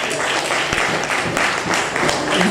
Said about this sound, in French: Et on applaudissez pour les mamans.